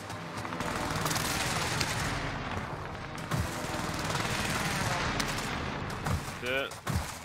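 Precision airstrike in a first-person shooter video game: a dense, continuous roar of explosions and gunfire rumbling through the whole stretch, loud and sustained, with a few sharper booms near the end.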